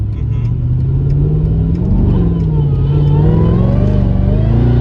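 Mercedes E55 AMG accelerating hard on a wet road with the rear wheels losing traction, heard from inside the car: a loud, continuous engine roar rising in pitch through the revs, while voices talk over it.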